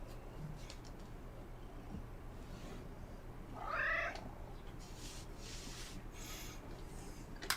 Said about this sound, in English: This cat is huge.